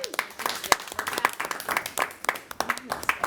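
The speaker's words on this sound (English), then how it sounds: "we owe a round of applause to Lucille" A round of applause breaks out at a board of education meeting, a roomful of people clapping in a dense, uneven patter for a few seconds, with speech audible underneath.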